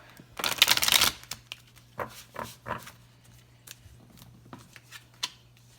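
Tarot cards are shuffled by hand: one close, loud riffle burst is followed by several soft, separate card snaps and slides, under a faint steady hum.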